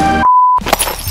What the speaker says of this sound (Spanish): ¡Se rompió esa copa de vidrio!